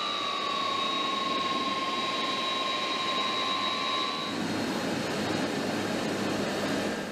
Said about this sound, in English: start the engines, and taxi the aircraft towards the runway.